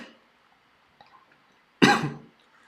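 A single harsh cough, close and loud, after a few seconds of near silence with faint small noises.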